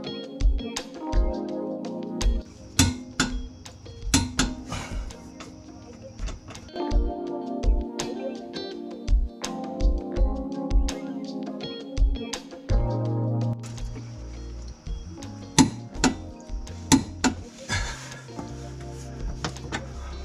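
A wrench tightens the lower control arm bushing bolts on a 1995 Honda Civic to 40 foot-pounds, giving irregular close clicks and metallic knocks in uneven clusters with quiet gaps between them.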